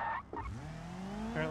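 Tire squeal from a car skidding in BeamNG.drive, a rising then sustained screech lasting about a second, moderately faint.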